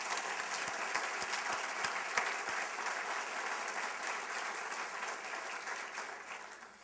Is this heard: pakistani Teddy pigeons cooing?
no